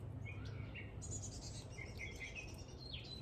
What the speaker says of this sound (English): And the rest of the birds are here.